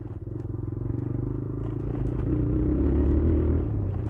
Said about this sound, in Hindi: नंबर प्लेट कैसे आवाज कर रही है